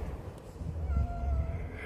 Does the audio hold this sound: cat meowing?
yes